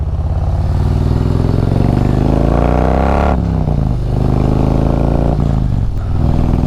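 Harley-Davidson motorcycle on a mountain ride near Highway 74 in North Carolina and Tennessee, its engine rumbling loudly and continuously close by, with pitch rising and dropping as the rider shifts and accelerates, plus wind noise.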